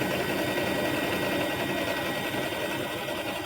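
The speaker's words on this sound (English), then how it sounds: "we're sewing it together on the long side of the triangle" A sewing machine runs steadily, stitching fabric triangles together along their long sides to make a square for half-square triangle quilt blocks. It gives a close, continuous mechanical whir for the whole stretch with no pauses and no talk.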